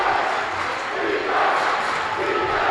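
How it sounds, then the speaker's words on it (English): Loud, sustained roar of a rowdy gym crowd at a boys' high school regional final basketball game, a steady wall of cheering and shouting with slight swells, no clear talk on top. "Warriors listen to this crowd"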